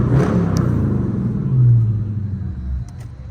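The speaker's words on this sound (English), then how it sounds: "I'm gonna rev it for you." Dodge Charger R/T engine revving on a New York City street near Times Square, a loud deep rumble that swells in a rev burst midway, then settles back to idle, close to the microphone with no talking.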